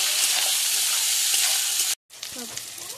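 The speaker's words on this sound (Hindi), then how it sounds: "अब इसमें डालेंगे टमाटर। डालो टमाटर, इसको डाल के 5 मिनट चला लेना दोनों।" Tomatoes tipped into onions already frying in a pan and stirred, a loud steady sizzle that cuts out briefly and returns with scraping stir noises.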